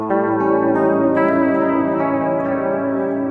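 A single chord rings out on a clean electric guitar, sustained and fairly loud for a few seconds with a slight shimmer, played alone without talk.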